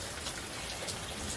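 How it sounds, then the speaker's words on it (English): Steady rain falling, a dense, even hiss of drops on surfaces, loud and continuous for the whole moment. "And it's raining and thundering"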